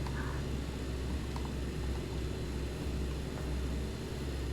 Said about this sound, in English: So, ground flight, starting engine 1.